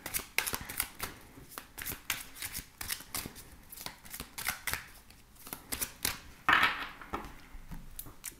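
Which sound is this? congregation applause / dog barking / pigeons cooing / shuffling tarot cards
shuffling tarot cards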